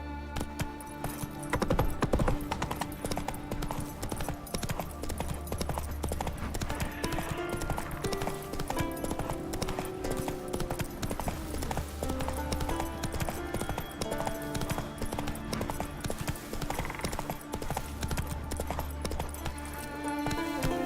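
Roach, a horse in The Witcher 3 on PC, gallops with steady rhythmic hoof clip-clops that run through the whole stretch alongside game music and ambience, with a brief whinny.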